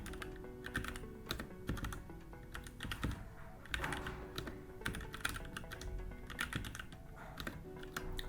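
A Git command is typed on a computer keyboard as a steady run of close, crisp key clicks, fairly quiet, with no speech.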